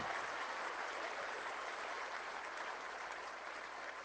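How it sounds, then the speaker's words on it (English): Steady, dense applause from a political rally crowd in Trenton, Nova Scotia fills the space evenly, a continuous wash of many hands with no voices rising above it. "Can you give the senator a big round of applause?"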